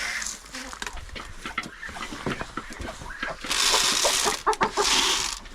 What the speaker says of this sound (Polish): A to kogut biały.